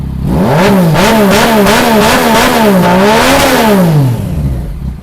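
A red 2015 Yamaha MT-09 three-cylinder motorcycle revved hard nearby, the pitch climbing and wavering through repeated throttle blips before dropping away at the end, loud and alone.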